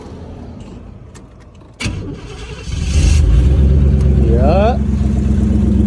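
A 1984 Camaro Z28 engine is heard up close as a low hum, then a sharp crank, and then it catches and settles into a loud, rumbling idle. Someone speaks briefly.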